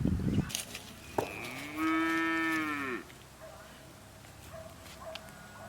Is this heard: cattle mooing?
yes